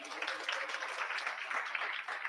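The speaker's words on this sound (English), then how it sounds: "Round of applause for Ruto." Applause from the audience at a fellowship launch event, a short, even patter of many hands clapping at moderate distance.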